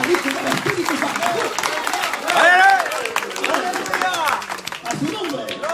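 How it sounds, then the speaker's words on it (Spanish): A church congregation claps together in a loud, dense burst of applause, with voices and crowd noise mixed in throughout. "El fuerte se aplausa al Padre, al Hijo y al Espíritu Santo."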